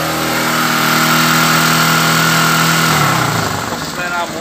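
A 2007 Honda CG 150 ES motorcycle engine, with a battery-drain fault, revs loudly up close, a steady high rev that drops and settles toward the end, with no speech.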